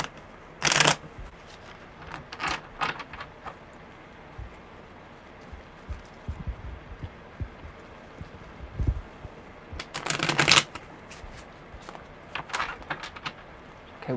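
Tarot cards being shuffled by hand during a live reading, with two loud riffling bursts near the start and again around the middle, plus scattered softer card taps and flicks in between.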